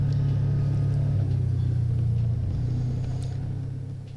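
A car pulls out of the gravel 12 Mile trailhead parking area with a steady, close engine rumble and low drone that gradually fades as it moves off.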